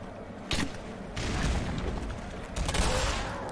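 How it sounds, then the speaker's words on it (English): Gunfire in the video game Black Mesa, loud close bursts of rapid shots with booming impacts, one sharp blast followed by sustained rattling fire, no talking. "so I just fucking shoot them"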